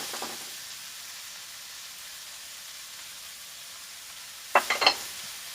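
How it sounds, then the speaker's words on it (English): A spoon stirs food in a frying pan over a faint, steady sizzle, ending with a short cluster of louder, close scrapes against the pan. "We're just going to stir that."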